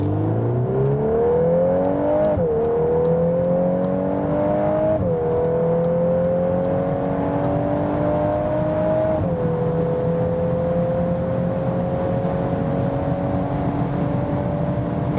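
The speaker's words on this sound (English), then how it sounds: "You hear that plopping from the exhaust?" Volkswagen Golf 8 R accelerating hard on a road, engine note rising steadily in pitch through several gear shifts with brief dips at each change, loud and continuous in the cabin, exhaust pops not clearly distinct.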